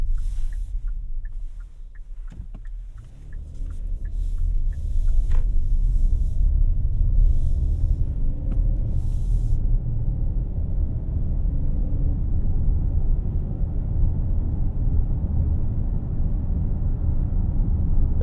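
Steady low rumble of road and tire noise fills the cabin of a 2024 Hyundai Palisade Calligraphy AWD on the move, a dense even drone with a few faint clicks early on and no talking.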